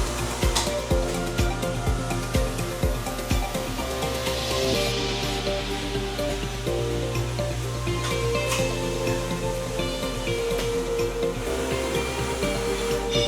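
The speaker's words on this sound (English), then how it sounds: "Mazak machine." Steady broadband machine hum of a 5-axis Mazak CNC machine running in a hitch manufacturing shop, with a continuous loud whir and scattered clicks and clatter over it, no talking.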